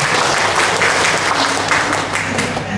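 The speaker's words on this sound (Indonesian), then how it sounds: "Aplaus untuk Jakarta." Audience applause fills a church hall during a Ramadan interfaith dialogue, loud dense clapping sustained for the whole stretch without a break.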